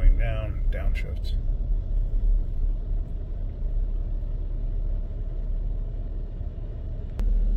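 A car drives and then slows, its automatic transmission downshifting. The engine's low rumble holds steady and close under a voice talking, with a brief sharp click near the end.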